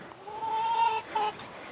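Chickens on a homestead cluck nearby, a drawn-out call followed by a short second one, faint and close in a quiet setting.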